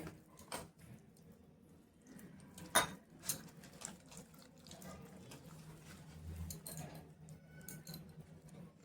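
About two spoons of gram flour (besan) are worked with a little water into a thick batter for cabbage roll pakoras, giving close, wet, intermittent stirring and squelching with scattered clicks against the bowl.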